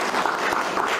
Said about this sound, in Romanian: Te rog să te ridici și să-l aplaudăm puțin.